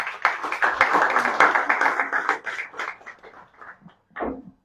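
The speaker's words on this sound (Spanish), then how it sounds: "fuerte aplauso a nuestros grandes invitados" Guests at a book presentation event get applause from the audience: brisk clapping from a modest group, strongest at first, then thinning and fading out near the end with a final few claps.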